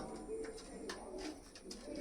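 A large female pigeon coos softly in short, low, faint calls, heard close but quiet for about two seconds.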